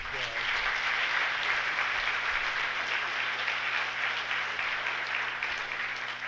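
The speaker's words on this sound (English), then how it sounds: "give him some applause" An audience at a talk applauds a brave volunteer, giving continuous, fairly distant clapping at an even level throughout.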